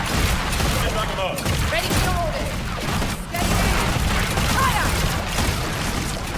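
Volleys of unit fire in the strategy game Warhammer Age of Sigmar: Realms of Ruin, a dense, continuous barrage of shots and bursts with booms, loud and sustained throughout, under game noise.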